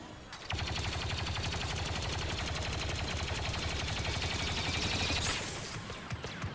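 Sustained rapid blaster fire pours out during a Star Wars Battlefront II galactic assault on Kashyyyk, a dense, steady stream of repeating shots lasting several seconds with no voices over it.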